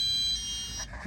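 CBE PC210 control panel in a camper van beeping at power-on, a short loud high-pitched electronic tone held for about a second.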